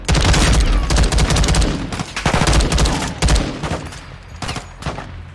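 Rapid gunfire in Call of Duty: Modern Warfare II, loud close bursts of automatic shots in quick fusillades, tapering into a few sparser shots toward the end.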